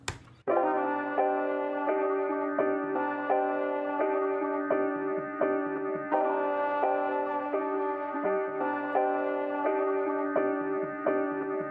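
A sustained, synth-like melody sample repeats in short chopped segments in a hip-hop beat, with steady rhythmic cuts and a constant tone throughout.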